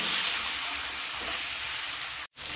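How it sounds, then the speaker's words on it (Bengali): Potato and ridge gourd pieces fry with turmeric and salt in a pan, giving off a steady, close hiss of sizzling oil with a brief drop-out near the end. "ভেজে দেখেন আলু আর ঝিঙ্গাটা ভাজা হয়ে গিয়েছে।"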